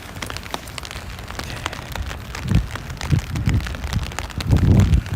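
Rain falls on a Brooklyn street after midnight, a dense close patter of drops on hard surfaces with heavier bursts of splashing, and no talk.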